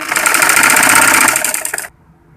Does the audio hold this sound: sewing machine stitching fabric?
yes